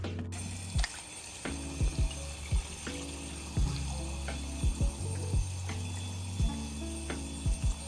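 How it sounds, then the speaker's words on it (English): Tap water runs steadily into a container at a kitchen sink while produce is prepared for pressure canning, with repeated sharp clicks and knocks of handling over the stream. "something that needs to be washed, and fill her up with water."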